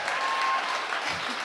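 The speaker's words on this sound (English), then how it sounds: "Let's give these teams another round of applause." A steady wash of audience applause fills a demo day event for startup accelerator teams, dense and even throughout.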